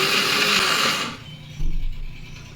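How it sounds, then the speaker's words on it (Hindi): A kitchen mixer grinder coarsely grinds dry peanuts in short pulses, a loud whirring burst that cuts off abruptly, followed by a quieter low clatter as the jar settles. "मैं बीच बीच में रोक रोक के मिक्सी देख ले रही थी और चला दे रही थी"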